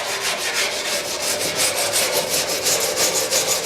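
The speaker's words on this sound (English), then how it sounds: "it'll all want wire brushing out." Wire brush scrubbing the seams of a freshly galvanised Land Rover Defender 130 bulkhead, a close, loud, rapid back-and-forth rasping that repeats in quick strokes with no talk.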